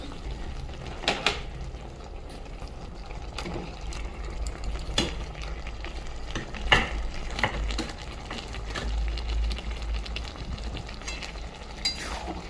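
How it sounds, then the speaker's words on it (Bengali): A pan of tomato, mango leather and date chutney is stirred with soft scraping strokes and light clinks at irregular intervals over a faint low sizzle, close and quiet, with no voices. "ভালো করে নাড়বো যাতে খেজুরটাও সিদ্ধ হয়ে যায়।"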